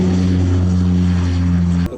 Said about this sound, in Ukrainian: Екіпаж розпочав розбіг